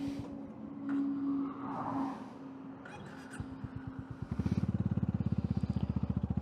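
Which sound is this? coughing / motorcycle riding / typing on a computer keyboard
motorcycle riding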